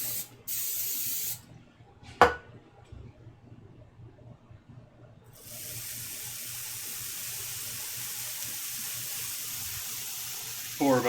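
Cooking spray hisses onto a hot waffle maker in a short burst, then a longer steady spray follows after a quiet pause, close and fairly loud with a faint click in between.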